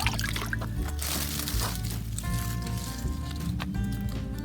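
Water poured and wafted over the roots of divided daffodil bulbs, washing away soil in a steady splashing stream with a constant liquid rush.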